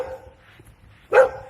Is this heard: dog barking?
yes